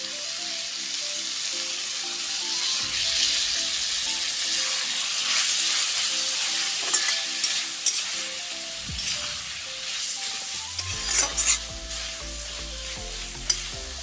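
Fermented bamboo shoot (khorisa) frying in a pan for a fish dish, a continuous hissing sizzle with occasional stirring clinks, close by, with a low steady hum running underneath.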